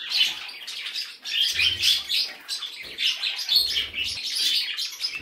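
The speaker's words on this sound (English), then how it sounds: "And there you see the budgies." Budgies chirp busily in an indoor bird room, a dense, continuous flock chatter of bright tweets and twitters close by, with brief soft flutters of wings.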